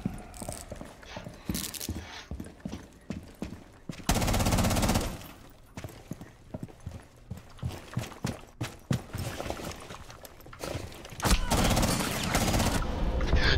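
Video game gunfire crackles in rapid bursts and sharp repeated shots, with mechanical clicks between volleys and occasional talking underneath.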